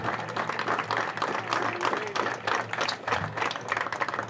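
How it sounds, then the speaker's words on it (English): A crowd at a high school baseball game gives a sustained round of applause for the 1979 Bobcats championship team, with dense, steady clapping from many hands and no voices heard. "Let's give these Bobcats from the 1979 championship team one more big round of applause"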